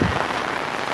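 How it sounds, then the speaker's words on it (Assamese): Steady rain falls on surfaces outdoors, a continuous dense hiss of drops at close range with no voices. "পানী পৰি আছে, বৰষুণ পৰি আছে"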